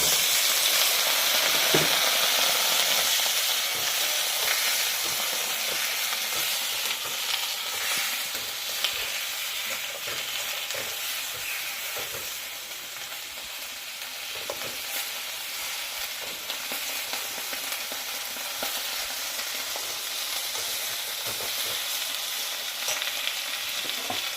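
Vegetables hiss and crackle in a pan of already-fried onion as a grandmother cooks. The sizzle is a loud, continuous, close-up frying sound lasting well over twenty seconds, with occasional stirring clicks and no talking.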